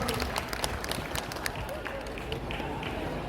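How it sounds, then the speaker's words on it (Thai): A crowd applauds at a buffalo show in Ubon, after the judging of female buffalo aged 12 to 18 months. The clapping is steady and dense throughout, with voices mixed into the noise of the grounds. "ขอเสียงปรบมือให้เจ้าของลายและชายทุกตัวในสนามประกวดครับ"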